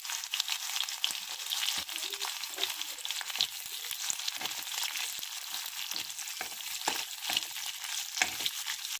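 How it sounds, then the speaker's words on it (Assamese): Chicken is frying in hot oil, giving a constant close crackling sizzle, with occasional stirring scrapes and spatters running unbroken throughout. "প্ৰথমতে চিকেনখিনি ফ্ৰাই কৰা অলমোষ্ট হৈয়ে গৈছে আৰু 2 মিনিট মান ফ্ৰাই কৰিম"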